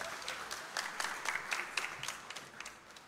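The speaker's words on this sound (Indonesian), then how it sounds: "tepuk tangan dong Bapak Ibu" Applause from a church congregation during a service, many hands clapping in a soft, somewhat distant wash with a loose rhythm that tapers slightly toward the end.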